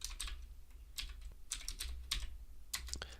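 Someone types a command on a computer keyboard under Ubuntu Linux, with quick clusters of close, crisp key clicks separated by short pauses and no talk.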